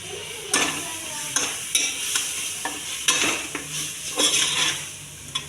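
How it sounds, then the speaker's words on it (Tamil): Mutton being stir-fried with onions in a pan, a spoon stirring and scraping with repeated sharp clatters against the metal over a steady sizzle, close and loud with no talking. "அடுத்து கழுவி வச்சுருக்க மட்டன் எடுத்து போட்டுக்கலாம்"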